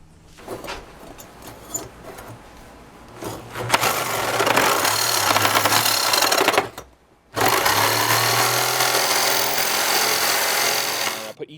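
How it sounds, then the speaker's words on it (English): A jigsaw cuts out the headlight surround holes on a 1969 Ford Ranchero, starting with light handling noise, then a loud sustained buzzing saw run, a brief pause, and a second long cut, all close by. "took jigsaw and went around it, made each one bigger"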